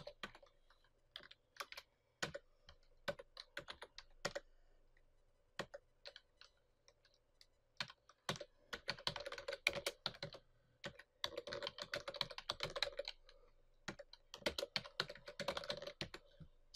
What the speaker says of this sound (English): Type in the credentials.